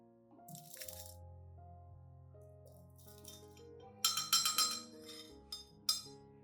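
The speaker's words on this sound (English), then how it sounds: "First, I add 3 tablespoons of tea leaves into a clean glass cup." Dry tea leaves tipped into a clean glass cup make close crunching, rustling clinks, with a brighter burst of crisp ticks toward the end over a steady low background hum.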